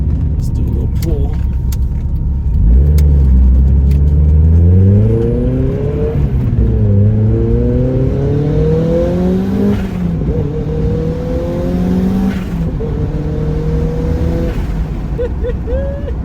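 A high-boost turbocharged Mazda Miata revs hard through several gears, its pitch climbing repeatedly between shifts, loud and close from inside the vehicle.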